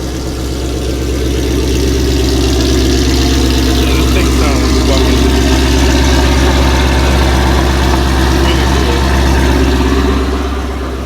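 A Ford Mustang S550 with aftermarket headers and intake idles loudly up close, its deep, steady rumble constant and heavy throughout the whole stretch.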